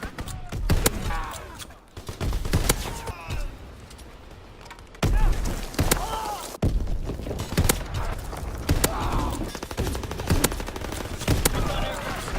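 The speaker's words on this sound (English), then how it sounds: "Enemy strafing run inbound." Repeated gunfire bursts and sharp shots from a World War II shooter game, Call of Duty WWII, during an enemy strafing run, loud and spread across the clip, mixed with game voice callouts.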